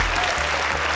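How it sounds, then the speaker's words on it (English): An audience applauding Efren Reyes's masse combination shot at a pool match, a steady dense wash of clapping filling the whole second, loud and close. "they were applauding the combination"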